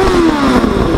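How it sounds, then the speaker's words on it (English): A Suzuki GSX600F Katana motorcycle engine rumbles loudly through its exhaust, holding a steady revving drone with a slight pitch dip, close up. "Let you hear this exhaust."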